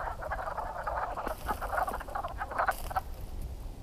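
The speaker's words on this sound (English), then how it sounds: "Sounds like the frog army." Many frogs croak together from inside a hole along a West Virginia backpacking trail, a dense, steady chorus of overlapping calls heard close by and fairly loud, with no talking.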